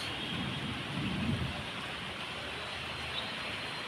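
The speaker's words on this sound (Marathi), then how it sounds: "हे आभाळातून गडगडण्याचे आवाज" Unseasonal evening rain falling steadily in Pune, Maharashtra, a dense even hiss of rainfall with a low soft rumble of distant thunder swelling briefly near the start.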